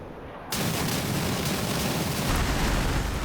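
A bomb dropped from an F-15E Strike Eagle in the DCS flight simulator goes off after a brief quiet moment, a sudden loud blast that settles into a sustained, heavy rumbling roar, with no voices.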